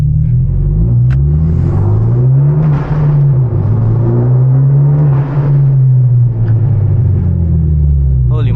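A modified Hyundai Genesis Coupe 2.0T engine revving inside a tunnel, a loud, booming rumble that swells and falls through repeated revs, echoing and dense throughout.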